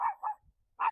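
A pet dog gives three quick, sharp barks in succession, close and fairly loud, with brief silent gaps between them.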